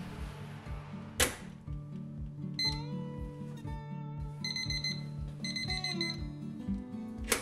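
An oven timer rings while bread bakes: a bright electronic alarm melody of repeated beeping tones following a sharp click, sounding close and continuous over a low steady hum.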